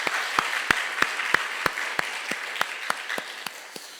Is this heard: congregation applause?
yes